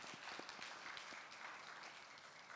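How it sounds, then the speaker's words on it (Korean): Applause from a church congregation during a Sunday worship service, a soft, steady patter of many hands heard at a distance and fairly faint throughout. "우리 감사하다고 박수하겠습니다."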